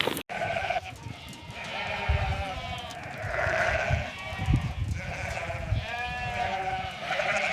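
Dense overlapping bleats from a large herd of goats mustered in collection yards for grading and inspection, calls rising and falling continuously over a steady low rumble of movement with no talk.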